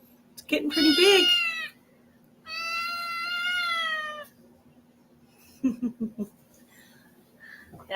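A cat meows and whines loudly nearby in two long drawn-out cries, followed by a shorter broken call, over a low steady hum indoors.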